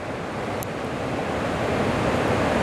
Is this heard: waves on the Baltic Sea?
yes